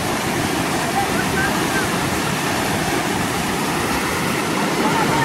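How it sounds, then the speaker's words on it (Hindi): Flood water pours from a breached canal across submerged sugarcane fields, a loud, unbroken roar of rushing water that fills the whole moment with no letup. "ये देखें अभी स्पीड और ज्यादा बढ़ गई है पानी की।"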